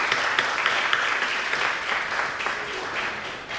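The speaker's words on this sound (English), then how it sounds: "one round of applause." A Hindu temple audience at the Anubhava event applauds in a full, continuous burst of many hands clapping, steady and fairly loud, tapering slightly near the end.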